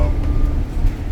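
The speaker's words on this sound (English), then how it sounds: "You hear this new Godzilla engine." A Godzilla gas engine drives a Fleetwood Southwind motorhome fitted with LiquidSpring suspension, giving a steady, loud, low rumble with road noise from inside the cabin, and no voices.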